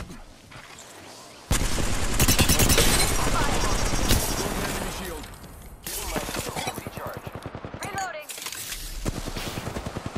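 Enemy gunfire in the video game Apex Legends, loud bursts of rapid automatic shots and cracks in long sustained volleys with brief pauses, accompanied by a voice talking.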